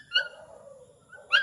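A dog barks twice outdoors, one short yelping bark near the start and another at the end, separated by a faint lingering whine, fairly close and clear.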